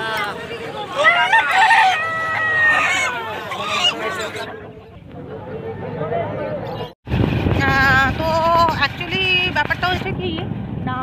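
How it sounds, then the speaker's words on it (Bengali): Fighting roosters with their legs tied by rope crow in loud, drawn-out bursts at a rural market, with people talking close by and a busy crowd in the background. "লড়াই করা মুরগি"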